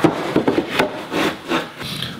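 Cut wooden deck gate boards, two at 36 inches and two at 33, being laid out, giving a few quick scraping knocks and rubs of wood on wood up close.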